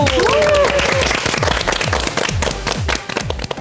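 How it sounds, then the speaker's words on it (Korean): Clapping from an audience at a youth democracy program on the Korean National Assembly, a dense burst of applause with bright whistle-like tones and rhythmic thumps early on, then loud sustained clapping that thins toward the end, with voices mixed in. "박수!"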